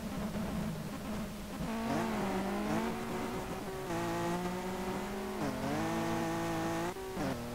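A BMW race car in the video game Street Legal Racing Redline launches with a loud, rising engine howl, climbing through several gear shifts with brief dips between them.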